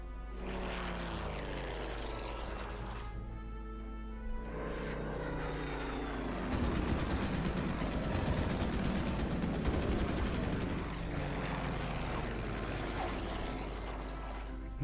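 Propeller aircraft engines of an air unit in the World War II strategy game Order of Battle, a steady droning hum joined midway by a louder rattling burst of gunfire-like noise, with no talk.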